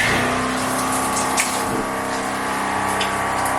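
Water from an off-grid outdoor shower runs in a steady, close rushing stream with a faint pump-like hum beneath, holding even throughout with no talk.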